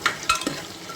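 Vada fritters frying in hot oil, a steady crackling sizzle with a few sharper bursts of bubbling near the start, close and fairly quiet, no voices.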